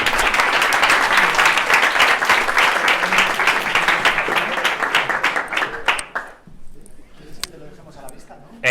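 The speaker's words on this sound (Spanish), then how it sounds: "os dejo con Santiago, un aplauso" Audience applause welcoming a speaker at a talk, dense clapping for about six seconds and then dropping off abruptly, followed by quieter room noise and faint movement.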